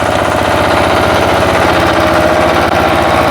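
A walk-behind tractor (motoblock) engine runs loud and steady close by, a continuous throbbing drone with a fast regular firing rhythm and no gaps.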